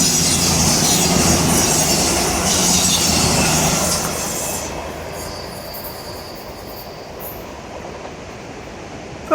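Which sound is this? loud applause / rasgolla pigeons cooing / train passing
train passing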